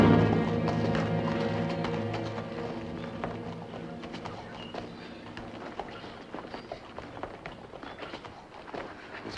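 A horse's hooves clip-clop steadily at a walking pace, fairly close, over a low humming background with faint murmuring.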